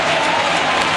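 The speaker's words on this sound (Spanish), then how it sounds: "Aplaude Leo Herrera." Spectators at an indoor futsal league match between FS Valdepeñas and El Pozo Murcia clap and cheer, a loud, continuous wash of applause and crowd noise in the arena.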